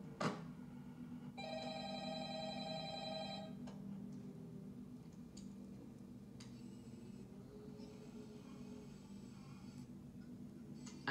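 A phone rings in the Five Nights at Freddy's VR video game, a buzzy electronic ring that repeats for a couple of seconds, fairly quiet amid hollow game ambience and scattered clicks.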